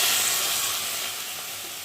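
Water goes into rice frying in a pot, raising a loud, steady hiss and sizzle that fades slightly over a couple of seconds.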